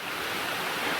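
Small waterfall on a side trail at Hickory Branch in Pisgah National Forest, a steady even rush of falling water, close and unbroken.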